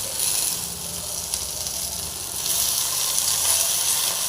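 Big brinjal slices fry in oil on a flat tawa, giving a loud, steady, close hiss of sizzling that swells slightly partway through and carries on without pause.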